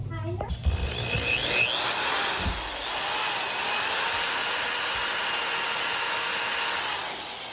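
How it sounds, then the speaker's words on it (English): Power drill boring a hole for an air line on a GX470 fitted with Firestone helper bags: a steady high motor whine that starts abruptly and holds for about seven seconds, close and loud, after a brief bit of voice at the start. "drilled our second hole"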